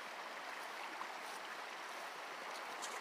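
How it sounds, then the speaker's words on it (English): Soft, continuous babble of creek water flowing over rocks, quiet and steady throughout. "this is a real nice little creek"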